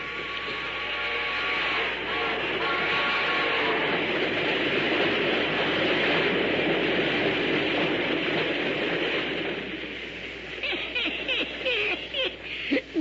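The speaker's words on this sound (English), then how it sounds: "There's that train again, Pat. The train, and it's getting louder" Radio drama train sound effect: a rumbling, rattling train grows loud and holds steady with clattering wheels, then fades out, leaving faint scattered noises at the end. No voices are heard over it.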